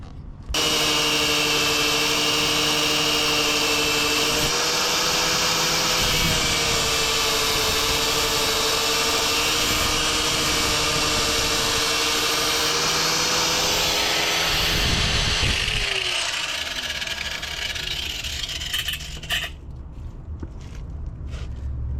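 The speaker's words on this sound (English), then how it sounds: "So I'm just gonna put a grinder to it" A grinder cuts off a part on a jet boat engine with a loud, steady, high whine that runs for about fifteen seconds before winding down and fading.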